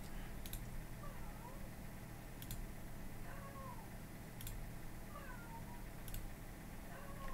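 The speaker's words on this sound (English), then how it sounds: "it's randomly playing one of the three meows" Synthesized cat meows, randomly alternating among three samples, repeat at a steady pace, each slightly different, over a constant noisy hum with sharp clicks between them.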